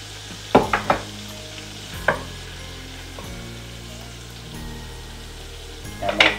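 Broccoli stirred into a garlic lemon sauce in a pan, a steady soft sizzle with a few close clinks and scrapes of the utensil against the pan at irregular moments.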